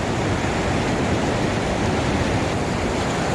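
River water rushing over a waterfall on a trout stream, a loud, steady broadband roar that fills the whole moment with no other sounds.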